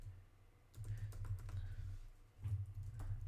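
Arrow keys on a computer keyboard are tapped repeatedly while a game is being coded and tested, producing a run of close, quiet clicks over a steady low hum, with no talking.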